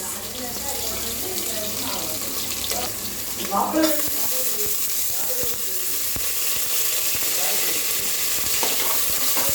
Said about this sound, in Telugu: ఫ్రై అయిన తర్వాత పొటాటోస్, క్యారెట్స్ వేసుకోండి ఫ్రెండ్స్